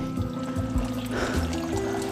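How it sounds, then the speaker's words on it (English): Natural spring water trickles and drips from rocks at a hillside source, a close, continuous liquid pour with small splashes, no talking. "natural water dripping out of the rocks."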